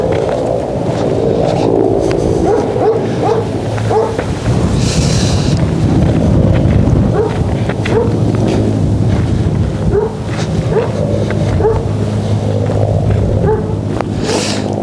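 Dogs barking outdoors on an evening street among houses in Ulan-Ude, with repeated short barks scattered through steady wind rumble.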